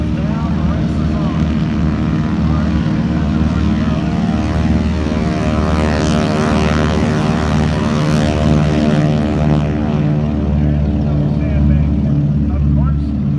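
Racing propeller airplane engines at the Roswell Air Races drone loudly and steadily at a run-up to 2,000 RPM, a deep throbbing roar with a layered harmonic hum that swells slightly midway, with no pause throughout.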